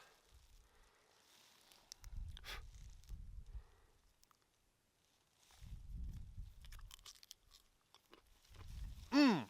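Soft crunchy chewing of fresh peas straight from the pod, heard close in three separate bursts of bites with quiet gaps between them, no talking.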